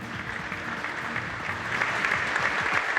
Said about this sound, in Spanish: con este aplauso, con esta calidez, con este reconocimiento